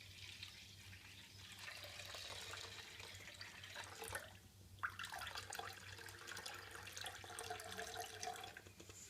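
Water is poured off settled wheat batter in a pot while making wheat papad, a continuous close splashing and trickling stream that briefly dips near the middle before flowing steadily again.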